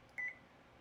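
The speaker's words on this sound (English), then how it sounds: "that's the inactivity beep if you have the quick or the emergency stop off" A single short electronic beep, clear but fairly quiet, sounds from a sim racing rig as its inactivity warning with the emergency stop off, over a low background hum.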